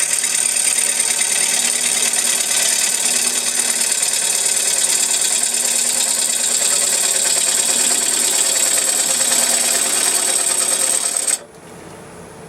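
A wood lathe runs steadily at speed while turning a bowl blank, a continuous loud whine with a high mechanical tone and an even hum, then cuts to a quieter drone near the end.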